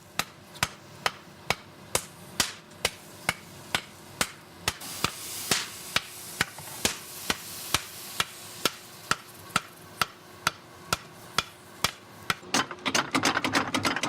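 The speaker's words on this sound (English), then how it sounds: "Mr. Doi removes it from the furnace and hammers it approximately 300 times to remove impurities." A blacksmith hammers a heated knife blade fresh from the furnace to drive out impurities, striking evenly spaced sharp metallic blows, roughly two per second, loud and close, ending in a rapid flurry of faster strikes.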